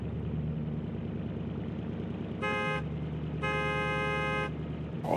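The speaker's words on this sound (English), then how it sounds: "let's listen to the engine" A car engine idles in the BeamNG driving game, a steady low hum that holds throughout while two bright electronic horn-like tones sound over it in separate bursts near the middle.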